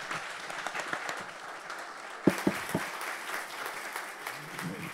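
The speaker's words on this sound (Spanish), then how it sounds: "un aplauso para los cinco, por favor." A conference audience claps for a panel in a scattered burst, with a few sharp louder claps partway through, fading into murmuring voices.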